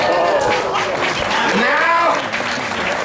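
Renaissance faire audience applauding a street performer, a dense sustained wash of clapping from a crowd with cheers and voices mixed in throughout.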